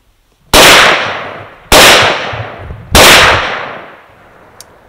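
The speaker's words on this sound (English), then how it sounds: "that explosion was rather uneventful" Three loud, sharp bangs about a second apart, each trailing off in a short echoing decay: a .308 rifle firing at Tannerite packed in a late-1980s microwave outdoors, with a faint tick afterward and no talking.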